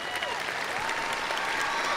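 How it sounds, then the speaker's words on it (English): A commencement crowd at a college ceremony bursts into sustained applause for the student speaker, dense and even throughout, with a voice faintly audible over the clapping. "a round of applause to her as well"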